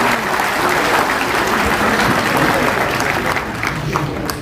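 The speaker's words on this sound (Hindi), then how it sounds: "तालियां बजाई।" Audience applause at a Memon community convention, a sustained dense wash of many hands clapping at once, steady and fairly loud from start to finish.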